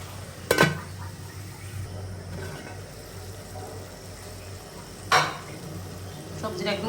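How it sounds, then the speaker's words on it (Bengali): Eggplant, tomato, green chilies and dried fish stir-fried in a pan, two sharp utensil clanks against the pan and a later scrape over a low steady sizzle, close by with no talking. "সবজিটা একদম কষানো হয়ে গেছে"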